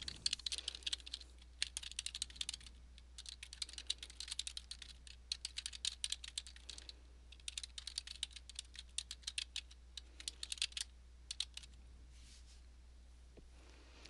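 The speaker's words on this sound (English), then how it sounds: "We'll type in our request for change here." Steady typing on a computer keyboard, quiet and close, with quick irregular bursts of key clicks and short pauses over a low background hum.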